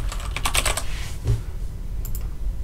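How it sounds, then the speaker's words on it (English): Fast typing on a computer keyboard, close and crisp, a quick burst of clustered key clicks up front, a thud, then a couple of isolated key taps near the end, with no speech. "We'll just type the whole name."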